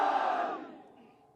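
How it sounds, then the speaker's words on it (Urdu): Rally crowd in Nagar Khas, Gilgit Baltistan, shouting political slogans in unison: one loud collective shout that swells and then fades away over a second or so, with no talk over it. "میرے ساتھ مل کے 3-4 نعرے لگا دو"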